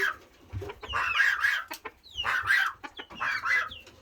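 A backyard homestead chicken clucks in repeated bursts close by, short throaty calls rising and falling in a loose rhythm with brief pauses between them.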